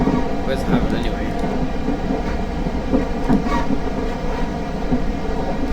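Simulated Class 444 electric multiple unit train on the South Western Railway route to Portsmouth in Train Simulator 2017, a steady rumbling rail roar with clickety-clack rhythm running throughout, loud and continuous beneath intermittent talk.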